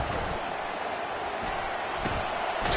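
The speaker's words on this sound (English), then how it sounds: "Decibels rising as the crowd gets behind this defense on 3rd down." Stadium crowd at a Michigan vs Oregon college football game roaring on third down, a dense, steady wall of loud noise with faint thumps and rising swells throughout.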